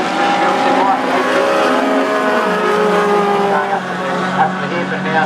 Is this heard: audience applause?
no